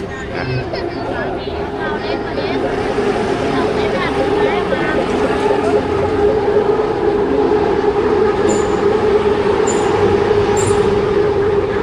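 Constant rumbling of an elevated skytrain rolling past at Ratchaprasong intersection on Ratchadamri Road, Bangkok, with a busy crowd and scattered voices layered over the steady mechanical roar.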